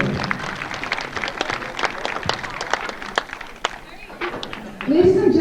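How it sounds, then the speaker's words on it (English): A dinner-theatre audience at a British Invasion-themed dinner applauds: a patter of scattered hand claps that thins out midway, then a voice rises at the end. "That would be a good time to applaud."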